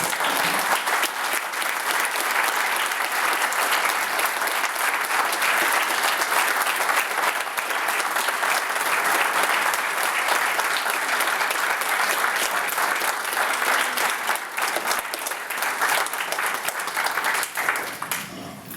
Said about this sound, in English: let's give them a good round of applause again